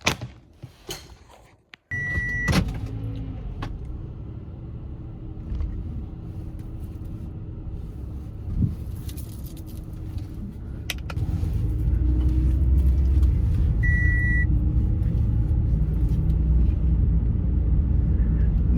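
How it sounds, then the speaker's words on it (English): A car being driven on a morning commute: a steady low engine and road rumble throughout, a couple of short electronic chimes and a door-like thump near the start, with the hum growing heavier and louder toward the end. "get my behind in this car and get to driving"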